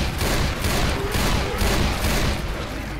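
Dense bursts of rapid gunfire in a Left 4 Dead 2 firefight, loud and close, firing continuously with overlapping shots and booms throughout.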